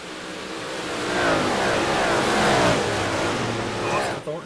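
Race cars roar around the Weedsport dirt track under green flag, engines swelling and fading as they pass in a continuous layered drone, with an announcer talking over the racing.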